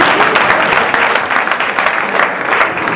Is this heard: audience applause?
yes